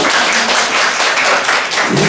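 Audience applause at a Korean lecture on child discipline, a steady dense wash of many hands clapping together, fairly loud and sustained throughout with no voices over it.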